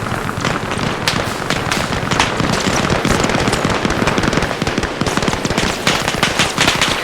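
Relentless gunfire in the video game King of the Hill, dense rapid automatic bursts and overlapping shots in a loud continuous barrage with no pauses.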